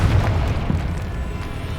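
A Confringo blasting spell explodes in Hogwarts Legacy, a booming burst followed by a rumbling tail, with several smaller pops layered over it.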